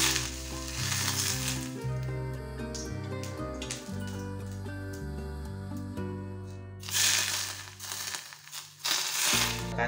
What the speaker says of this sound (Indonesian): kemudian sausnya ini kita taburi minyak panas.